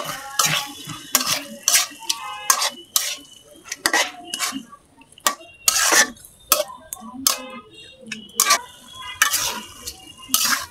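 Small rita fish in spiced masala get stirred in a pan with a spoon, producing a string of sharp metallic scrapes and clinks in an uneven rhythm over a soft sizzle.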